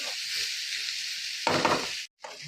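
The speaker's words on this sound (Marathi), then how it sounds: "मिडम गॅसवरती हे आपण मसाले परतून घेणार आहोत" Spices and tomato sizzle in a pan over medium gas heat for an egg dum biryani, a continuous bright hiss that gets louder as they are stirred and scraped, then cuts off briefly before the frying resumes.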